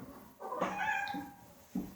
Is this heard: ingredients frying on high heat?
no